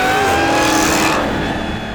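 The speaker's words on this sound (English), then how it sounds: "this one's it's pretty loud once you gas it." The ENR #19 car's engine roars loudly as it is gassed, a sustained, strong revving note that holds for about two seconds before easing slightly.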